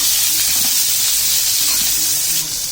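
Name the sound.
raw mango pieces sautéing in oil, stirred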